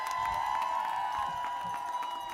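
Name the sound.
audience applause and cheering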